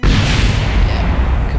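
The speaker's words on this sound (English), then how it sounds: "yeah, kaboom." Rocket explosion in Kerbal Space Program, a loud, deep, sustained booming blast filling the whole moment with rumbling low-end roar.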